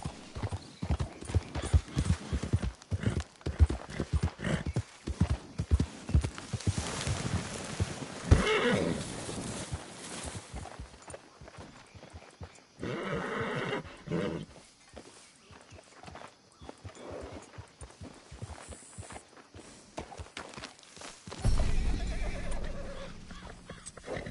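A horse in Red Dead Redemption 2 trots with rhythmic clip-clopping hooves and lets out whinnies, with the hoofbeats fading and returning and a louder burst near the end.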